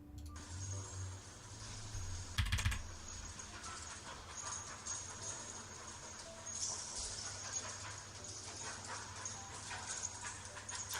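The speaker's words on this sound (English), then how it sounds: "the dog going nuts about their car and barking" A dog goes frantic at a car in a video being played back, with a sharp bark burst early on, then panting and faint yaps under a steady hiss, all fairly quiet and distant.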